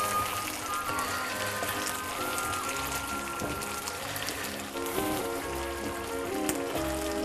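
Ketchup being stirred into a hot dog and bean stew, a wet, steady squelching and sloshing churn that carries on without pause and stays fairly close, with no voices.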